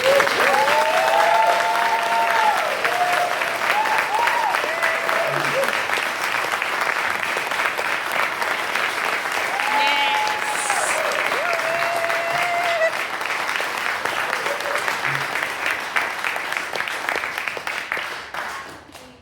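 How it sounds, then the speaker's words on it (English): Sustained audience applause filling a hall at a speech on racism by MP Zarah Sultana, steady dense clapping throughout that fades slightly toward the end, with a few faint voices and whoops mixed in. "I think we should just give her a round of applause."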